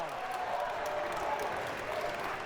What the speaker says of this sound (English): It is electric with this crowd.